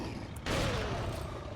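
Rapid burst of gunfire in Resident Evil 4, dense and continuous after a brief quieter start, loud and close in a game mix.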